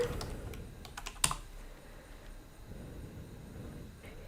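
Quiet typing on a computer keyboard, a short run of soft clicking keystrokes with one sharper tap, heard close against low background rumble and no talking.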